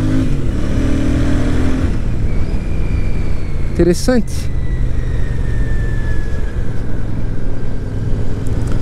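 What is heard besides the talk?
Royal Enfield Super Meteor 650 motorcycle engine revving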